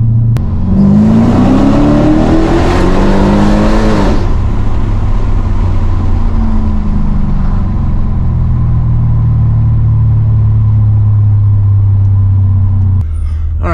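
A Mercedes CLK55 AMG engine revs hard and climbs through its gears, loud and close, then drops off sharply near the end.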